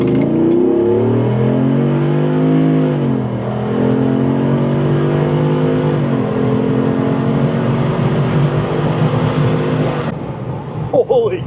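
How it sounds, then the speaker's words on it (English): Jeep Wrangler JK fitted with a 392 Hemi V8 accelerating hard on a highway, a loud rising engine roar climbing through gear changes with a brief dip and surge, fading into road and wind noise at the end. "Needless to say, acceleration is brisk."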